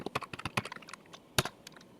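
Close, rapid keystrokes on a computer keyboard typing SQL commands into a database shell, in uneven bursts with a sharp louder tap near the end, like pressing enter.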